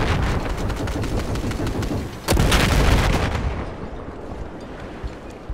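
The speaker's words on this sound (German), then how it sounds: "Wir werden beschossen." Heavy gunfire and a loud blast ring out in a Battlefield 4 multiplayer match, with dense rapid shots and a sharp explosion midway, then a fading rumble. No one speaks.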